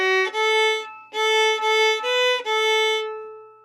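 A solo fiddle plays a short, slow passage of the Newfoundland tune I'se the B'y: a handful of clear, sustained bowed notes in a simple stepwise pattern, close and alone.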